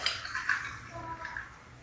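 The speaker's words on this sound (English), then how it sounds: "Just topping it with some water." Water poured over ice into a drink glass: a short, close splashing pour with a bright, watery trickle, and no talk over it.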